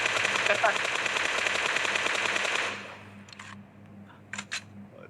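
Long-range gunfire in a PUBG Mobile esports qualifier match, a dense rapid automatic burst for about three seconds, then a few isolated shots, with a voice talking throughout.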